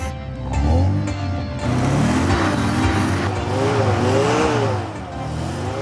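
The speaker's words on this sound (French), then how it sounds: "Entendre enfin le 4 cylindres chanter dans l'atelier" A Fiat 124 Sport Spider four-cylinder engine runs nearby in a workshop, revving up and down in repeated surges with a rough, throaty hum.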